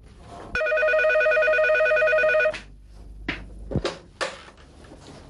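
A telephone bell rings loudly in one sustained, steady trill for about two seconds, followed by handling clatter and clicks, in a scene from an Algerian film.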